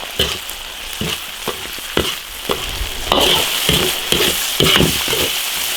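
Chili peppers stir-fry in a hot iron wok for a spicy hotpot base, a loud continuous sizzle with sharp, irregular spatula scrapes and clatters throughout, growing more intense midway.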